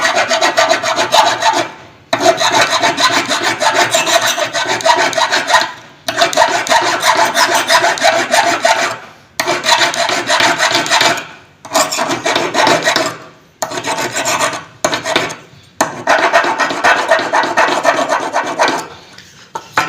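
Steady back-and-forth rasping as an iron thermostat contact point is rubbed down, close and loud, in long strokes broken by short pauses, with no talking.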